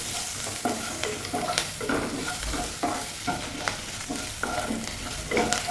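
A spoon stirs onion with boiled cassava and fried egg in a hot pan, producing rhythmic scraping strokes over a continuous light sizzle, close and steady.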